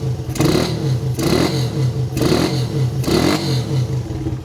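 A small engine fitted with a 30mm OKO Taiwan carburetor revs in four quick, loud bursts, each throttle blip rising and then dropping back to idle. No one speaks.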